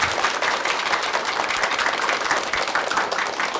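A studio audience at a televised humor lecture gives a big round of applause, a loud, dense wash of clapping that holds steady throughout without any talk.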